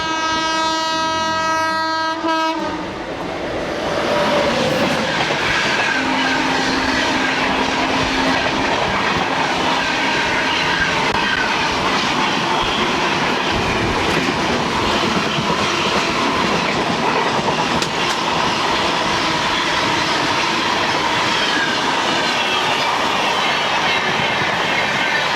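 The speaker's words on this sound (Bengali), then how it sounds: "এখন ক্রস করবে 12842 করমণ্ডল এক্সপ্রেস" Coromandel Express 12842 roars past at close range, opening with a loud sustained horn blast that gives way to a continuous heavy rumble and rhythmic clatter of wheels over rail joints that holds steady to the end.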